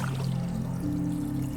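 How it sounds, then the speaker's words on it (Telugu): Cool, clear stream water flowing between rocks down from the hills near a hidden waterfall in Andhra Pradesh, a steady close pouring rush with a low, even rumble and no talking. "రాళ్ళు మధ్యలోంచి అలా వస్తుందో చూశారు కదా."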